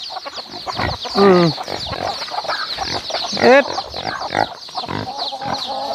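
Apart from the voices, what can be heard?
chickens clucking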